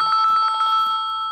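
A phone rings with a rapid, bright electronic trill, repeating pulses that stay loud and steady throughout.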